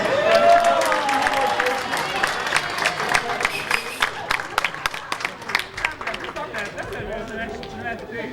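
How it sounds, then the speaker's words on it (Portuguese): A round of applause from a party crowd at a birthday celebration at a buffet hall, dense clapping close by with voices and cheers mixed in throughout. "uma salva de palmas."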